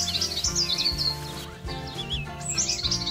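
Cartoon baby birds nesting in a character's hair chirp in a busy cluster of high, quick tweets over soft musical accompaniment, bright and close.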